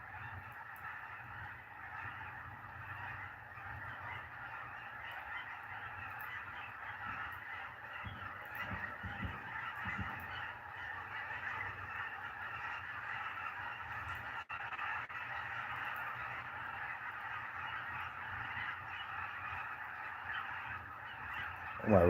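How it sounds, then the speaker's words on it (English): A huge flock of wild geese honks loudly and without pause beside a river, the clamour steady and dense across the whole stretch, with a faint voice and a brief bump near the end. "You hear them birds, man?"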